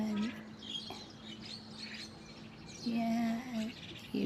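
Birds feeding on leftover rice grains in a harvested rice field chirp in short, high tweets, some near and some farther off. A voice talks over parts of it in the open morning air.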